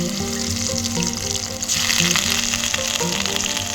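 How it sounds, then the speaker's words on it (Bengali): Ginger and garlic sizzle in oil left over from frying fish, a base for a taro-leaf curry. A constant, close crackle fills the pan, swelling slightly halfway through, with faint tonal sounds beneath. "মাছ ভাজা তেলেই একটু আদা রসুন দিয়ে দেবো"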